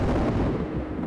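A deep, rolling rumble of thunder from lightning in the night sky, loud and close, swelling and fading over about a second with no voices.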